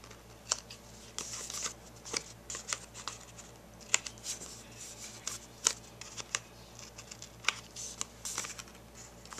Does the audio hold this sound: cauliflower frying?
no